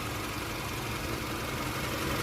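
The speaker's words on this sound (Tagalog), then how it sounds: "kasi maandar po yung makina" A car engine idles steadily, a continuous low, even rumble and hum with no change in pitch over the short stretch.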